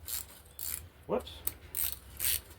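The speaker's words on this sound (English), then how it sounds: "Ratchet got switched to loosen somehow." A ratchet wrench is used during reassembly of a 318 engine, giving a few short bursts of close clicking with pauses between them, fairly quiet, with a brief muffled sound in the middle.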